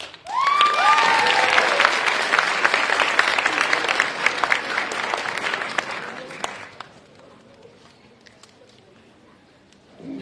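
A crowded room at a Yonkers award ceremony welcomes Mayor Mike Spano with loud applause and a short whistle early on. The clapping fades gradually after about six seconds into near quiet.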